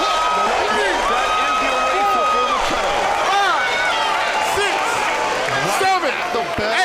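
A Las Vegas arena crowd of boxing fans roars and cheers steadily through a fight, a broad wash of voices and shouts with commentators talking over it.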